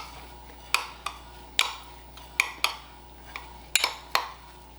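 A spoon clinks and taps against a bowl while ricotta is mixed with cinnamon sugar, giving a series of irregular, bright scraping knocks, close and fairly quiet, with no talking.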